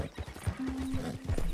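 Horse in the game Red Dead Redemption 2 clip-clopping with soft rhythmic hoof beats while a drawn-out whinny cuts through, close and clear.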